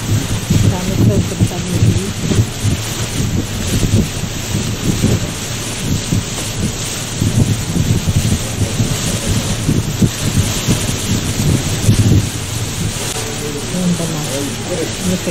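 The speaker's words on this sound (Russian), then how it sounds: "когда дождь пошел." Heavy, steady rain pours down without a break in the Verkhoyansk Range mountains near a river mouth, with a wind-like roar and low rumbling running underneath the whole time.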